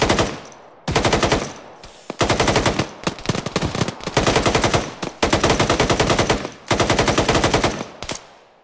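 Rifle fire in the military video game ARMA 3 comes as loud, rapid automatic bursts, repeated several times with short gaps between them.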